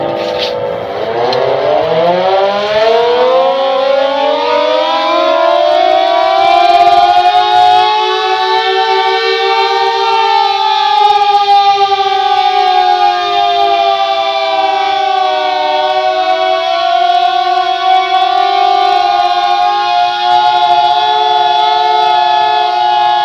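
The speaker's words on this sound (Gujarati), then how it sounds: "રૂકીને જે સાયરન વાગતી હોય છે એ સાયરનથી આપણે એટલું સમજી જઈશું" A civil defense air raid siren rises in a loud wail, then holds a sustained tone that slowly wavers up and down, heard alone with no talk.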